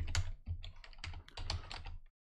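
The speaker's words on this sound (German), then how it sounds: "jetzt tippen wir hier localhost ein" Quick, irregular clicking of computer keyboard keys, close and quiet, a short burst of typing that stops abruptly.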